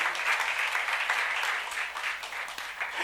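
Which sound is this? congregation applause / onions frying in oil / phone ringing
congregation applause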